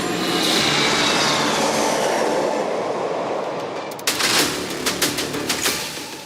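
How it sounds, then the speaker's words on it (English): Rafale fighter jets in formation with a Boeing E-7 airborne early warning aircraft fly over the Republic Day parade at Kartavya Path, a loud sustained jet roar that slowly fades, followed by sharp crackling bursts near the end. "इसके बाद 4 राफेल लड़ाकू विमान और एक Boeing E-7 airborne early warning and control system करतब दिखाने के साथ ही अपनी ताकत का प्रदर्शन करेंगे"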